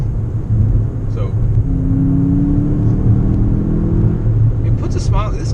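A 2019 Volkswagen Jetta GLI engine hums steadily while driving, a low continuous drone with a rising tone as it accelerates, and a person talks over it.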